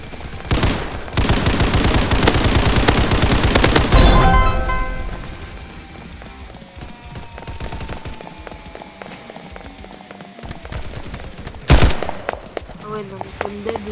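Rapid bursts of automatic gunfire and explosions in the shooter video game Hypershot, loud dense volleys at first that thin to scattered shots, with a player talking over them.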